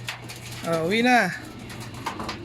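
A pigeon cooing close by, one drawn-out warbling call rising and falling in the middle of the stretch, over a low steady hum with faint voices in the background.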